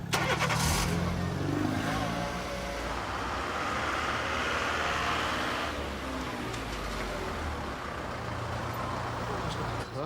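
A car drives off over roadway background noise, its engine rising and falling as it pulls away at close to moderate distance, with a faint voice underneath.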